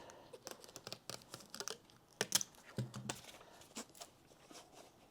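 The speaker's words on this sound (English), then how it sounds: "you're just taping it shut, one bit at a time." Tape pulled and stuck in short bursts to seal a package holding fragile 78 rpm shellac records, heard as close, quiet crackling rips and taps in irregular succession.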